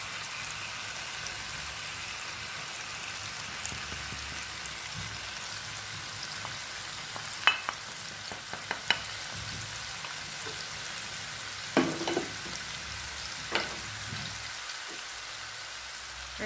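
Minced meat frying with tomato and garlic in a pan, a soft continuous sizzle with a few sharp clinks and stirring knocks scattered through, quiet and close with no talking.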